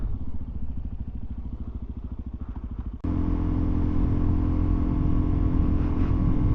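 Suzuki DRZ400SM motorcycle under way, the single-cylinder engine thumping in a rapid loping beat, then opening up at the three-second mark into a louder, denser roar with wind rush, close and continuous.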